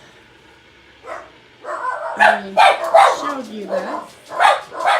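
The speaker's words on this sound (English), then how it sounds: "the neighbor's dog is outside, so yeah, the dogs start barking" A dog barks outside during a winter storm, giving a few short yips and barks partly mixed with a person speaking nearby.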